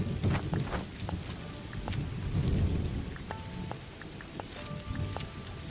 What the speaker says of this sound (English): it's still raining anyway